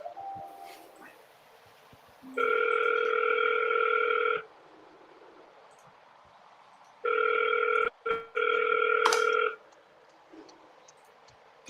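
A telephone rings in two-second electronic bursts, two rings separated by a pause, clear and close against a quiet room with faint background noise.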